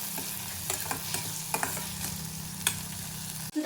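Steady sizzle of frying in a pan during jowar mudde preparation, a continuous hiss with occasional spoon scrapes and clicks, close and moderately quiet.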